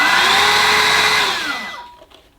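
A Gtech Prolite handheld vacuum cleaner with a motorized head runs with a loud, steady whine, then the motor winds down and fades out as it is switched off.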